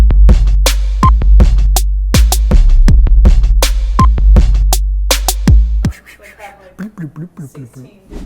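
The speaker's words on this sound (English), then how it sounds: "It sounds kind of like a keychain." Sharp metallic jingling hits repeat in a steady rhythm over a low hum, like a keychain being shaken, then give way to quieter clicks.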